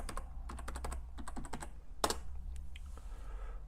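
Typing a command and a password on a computer keyboard, a close series of quick key clicks in rapid bursts with short pauses and one heavier key press midway.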